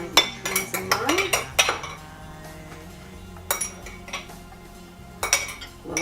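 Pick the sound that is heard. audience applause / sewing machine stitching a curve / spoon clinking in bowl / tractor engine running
spoon clinking in bowl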